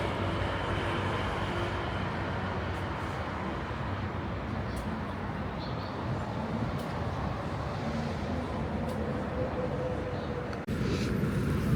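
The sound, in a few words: cars moving along a misty Seoul street at night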